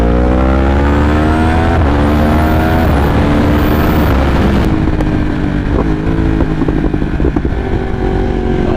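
A 193 hp motorcycle engine roars loud and close while cruising, its pitch sliding down through gear changes and then settling into a rough, steady drone with no talk.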